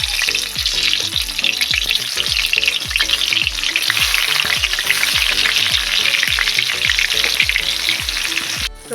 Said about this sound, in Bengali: বেগুনটা আমি দিয়ে দিচ্ছি দেওয়ার পর আমি একটু চাপা দিয়ে দেবো তাইতে তাড়াতাড়ি ভাজা হয়ে যাবে